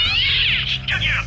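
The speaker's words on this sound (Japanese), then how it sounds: "还有猫" A cat meows in the video game Shenmue, two drawn-out, wavering meows heard close and loud over a steady low background hum, with no talking.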